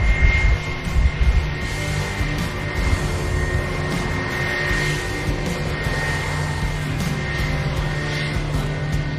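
A Finnair airliner taxiing out at Manchester Airport, with a steady whining engine hum and a constant high tone over low rumbling, fairly loud and continuous without talk.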